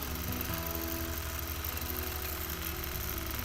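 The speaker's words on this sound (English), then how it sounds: "when you push start, the needle just starts stitching" A sewing machine on a quilting setup stitches steadily, its needle driving a continuous, even mechanical hum and rapid rhythmic chatter, close and constant throughout.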